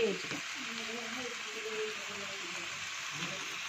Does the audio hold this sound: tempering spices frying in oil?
yes